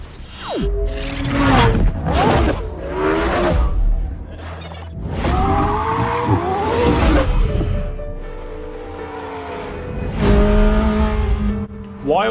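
Racing cars in the Forza Horizon video game rev loudly and whoosh past, with rising and falling engine pitch and tire squeal, close and continuous.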